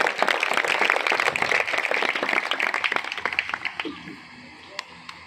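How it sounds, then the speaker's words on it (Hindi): A church congregation in Sargodha breaks into dense, loud applause during a prayer gathering, the clapping sustained for about four seconds before thinning out and fading. "जोरदार तालियां बजाएं उस खुदा के लिए।"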